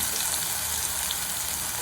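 Spice paste for butter beans kurma sautés in a pan, giving a steady, even sizzling hiss that runs without a break. No voices are heard.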